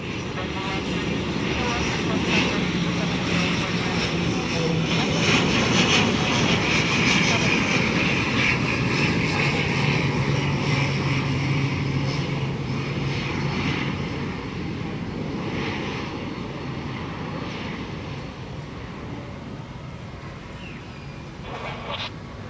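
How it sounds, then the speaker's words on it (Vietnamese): An Air Cambodia ATR-72-600 turboprop comes in to land at Tan Son Nhat airport in heavy rain, its engine drone loud and steady then easing off, under continuous rain hiss with someone talking over it. "Chiếc máy bay đang bước vào hạ cánh tại sân bay Tân Sơn Nhất"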